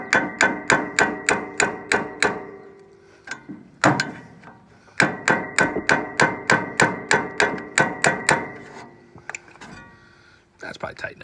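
A hammer strikes metal on an old Farmall M tractor in quick, even runs of sharp close blows, pausing briefly between bursts, with a few quieter knocks near the end.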